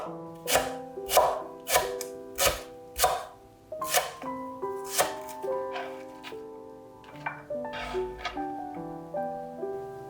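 A knife slicing green onion diagonally on a cutting board, a run of crisp, evenly spaced chops close up and alone, with soft background music tones between the strikes.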